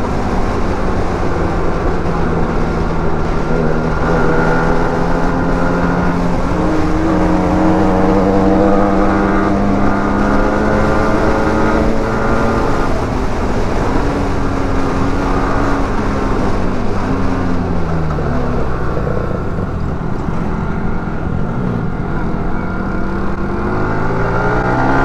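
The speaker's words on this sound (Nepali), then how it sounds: "बाइक उफारिरहेछ कि धेरै" Motorcycles, including an R3, ride a bumpy, dusty road near Hemja, producing a loud continuous engine drone whose revs rise and fall throughout, with no talking.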